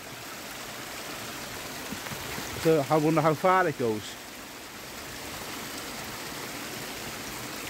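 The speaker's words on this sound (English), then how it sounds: "This old stream here is the where that tunnel comes out, the water flows through it." An old stream flows out of a tunnel beside an old house, a steady close rush of running water throughout, with someone speaking briefly over it midway.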